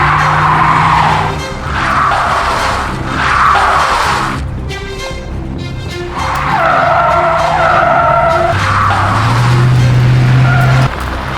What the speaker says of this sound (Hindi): गाड़ी स्टार्ट कीजिए, मैं धक्का देता हूँ।